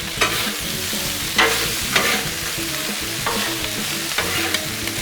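Seasoned shrimp sizzle on a Blackstone griddle while being stirred, a constant frying hiss punctuated by repeated scraping and tapping of a spatula on the flat metal surface.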